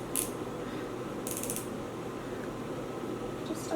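A retractable eyeliner pencil being twisted up, giving a few soft, close ratcheting clicks over a steady low background hum.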